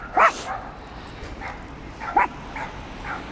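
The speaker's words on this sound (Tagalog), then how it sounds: "At daming mga aso dito." Several dogs bark and yip in short bursts, two loud close clusters with fainter answering barks between them, over a low background hum.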